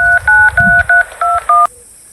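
Telephone keypad tones, seven crisp, loud beeps in a quick, even sequence, then a short quiet pause as the number is dialed.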